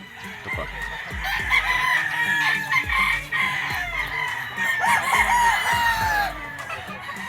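Several Golden Boy gamefowl roosters, broodcocks on a gamefarm, crow in long repeated calls over steady clucking, close and loud throughout with a busy farmyard background.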